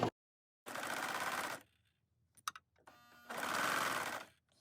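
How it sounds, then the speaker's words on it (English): A serger stitches an elastic waistband casing in two quick bursts of rapid mechanical whirring, with brief clicks and handling noises between them, close and clear. "we are serging right here along this area"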